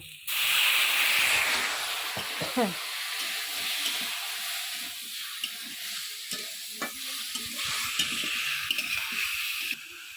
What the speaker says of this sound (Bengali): অল্প একটু জল দিয়ে ভালো করে কষিয়ে নেব